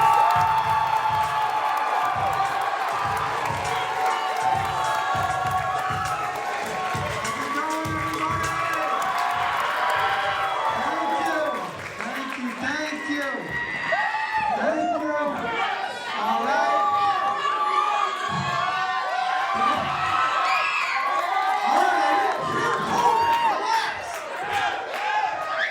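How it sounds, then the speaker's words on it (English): A live comedy-show crowd cheers, whoops and shouts, with rhythmic stomping or clapping early on that gives way to loud, overlapping cheering and chatter. "What a lovely crowd we got here tonight. Make some noise for yourselves."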